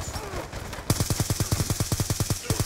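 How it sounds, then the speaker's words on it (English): Sustained automatic gunfire from a Call of Duty Black Ops 2 match, a steady rapid burst of about a dozen snappy shots that kicks in abruptly after a brief stretch of quieter game noise. "And he just keeps shooting."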